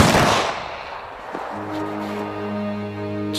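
A loud gunshot volley from a firing squad bursts at once and decays into a long echoing tail, followed by a sustained low drone.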